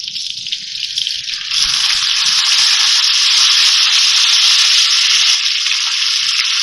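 Garlic ginger paste for a potato sabzi hits a hot pan and bursts into a loud, dense, continuous sizzle that swells after a quieter start and holds steady, close up.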